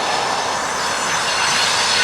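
Freight train switching boxcars on the NYS&W Utica Branch near the New York Mills Industrial Spur: a steady, loud rolling rumble with a broad hiss and faint wheel squeal, no speech.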